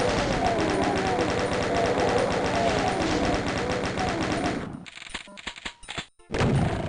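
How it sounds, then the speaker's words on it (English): A chain gun fires in the Doom 2 video game, a dense rapid stream of shots that runs for several seconds and then breaks into a few short bursts. "let's use this opportunity to use our chain gun"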